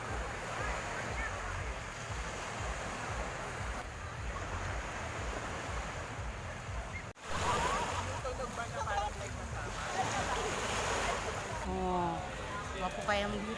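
Ocean waves wash onto a beach in a steady, loud surf roar, mixed with wind buffeting the microphone and a sudden gust-like jump partway through.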